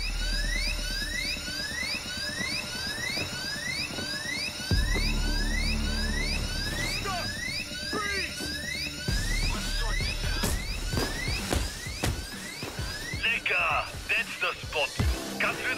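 A power saw cutting through a bank vault in the video game Payday 2 whines with a repeating sweeping tone over a steady mechanical drone, loud and continuous, with gunfire and effects cutting in later.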